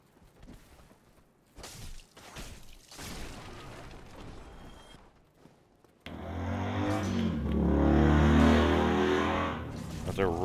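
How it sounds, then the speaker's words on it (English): A loud car passes nearby, its broadband roar swelling over several seconds and dominating the second half, after quieter game sounds and a voice talking. "Loud car going by."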